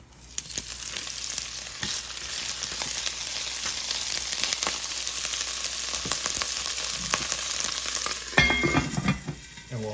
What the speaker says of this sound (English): it's gonna be popping and cooking and all of that fun stuff, making a lot of noise